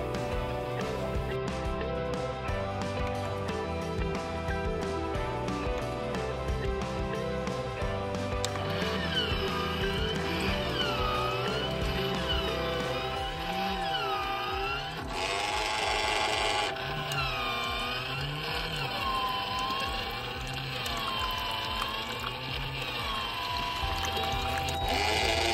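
Baby Brezza electric milk maker preparing a bottle of formula, a continuous mechanical whir and motor hum with pouring water and rising tones, steady and close throughout.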